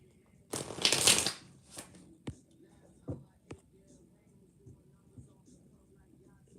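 Tarot cards shuffled in one quick riffling burst, followed by a few soft taps and card snaps, close and quiet, with a voice speaking at a low level.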